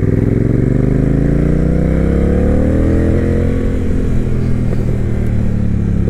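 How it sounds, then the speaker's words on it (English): Honda Rebel 1100 motorcycle with an aftermarket exhaust running alone at close range, a loud, deep, mellow engine note that rises in pitch through a rev and then settles back with a low rumble. "I love this exhaust. It's a good mellow tone."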